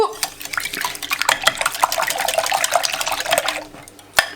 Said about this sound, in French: on met le mélange d'œufs au-dessus